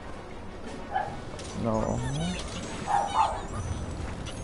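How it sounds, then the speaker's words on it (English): Small puppy in Rayman Legends barking and yipping in a few short bursts, moderately loud, mixed in with game sounds while someone talks over it. "Oh, why is that dog bark?"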